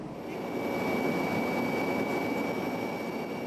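A steady, loud helicopter engine drone with a whining high tone as a Swiss helicopter approaches to land at Alpnach, sustained throughout without talk.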